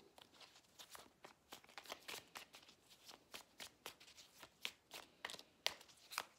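Oracle cards are shuffled by hand for a reading, a close, quiet run of rapid riffling slaps and flicks in an irregular rhythm with no speech.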